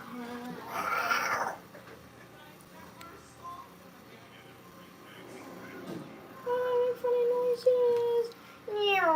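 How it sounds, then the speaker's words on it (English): A cat meows and caterwauls in several short cries, close and fairly loud, with quiet background noise between calls and some talk nearby. "funny noises. Meow."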